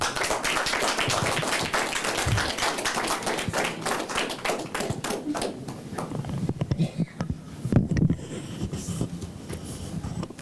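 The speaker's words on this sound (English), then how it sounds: "Give a big applause one time" After a business-session presentation at a 2013 peace convention, an audience breaks into dense, steady clapping that gradually thins into scattered claps and light taps.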